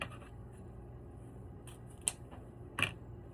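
Scissors snip through the tail of a satin ribbon for a patriotic wreath, two quiet, crisp cuts standing out against a faint room background.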